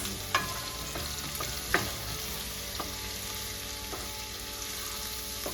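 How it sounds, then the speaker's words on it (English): Chopped green chilies sauté for a palak paneer, making a constant close sizzle in the pan broken by a few sharp clinks and scrapes from a stirring spoon, with no one talking. "Chopped green chilies. Saute for 2 minutes."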